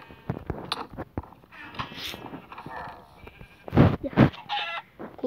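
A Minecraft chicken clucks in a series of short, bright bursts scattered over the game's ambience, with a couple of louder calls near the end.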